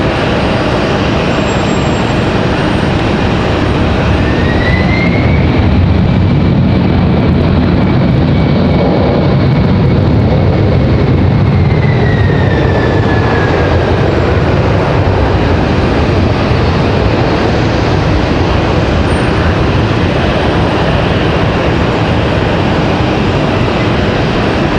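A FedEx Boeing 767 lands at Raleigh-Durham International Airport, a loud, steady jet roar that holds for the whole stretch and swells slightly mid-way, with no voices over it.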